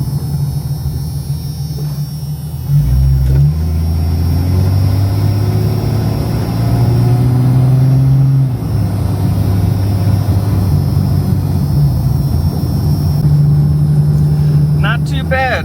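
A beat-up Jeep XJ, just made drivable after a rollover, is driven with a steady engine drone whose pitch steps as the transmission shifts gears, loud and continuous from inside the vehicle.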